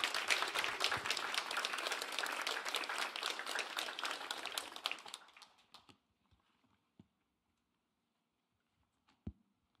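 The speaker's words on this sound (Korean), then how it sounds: "우리 목사님 나오실 때 큰 환영의 박수로 목사님을 맞이하겠습니다" A church congregation gives a loud, sustained round of welcoming applause for a pastor at a special prayer service, which fades out after about five seconds, leaving a few scattered claps and faint knocks in near silence.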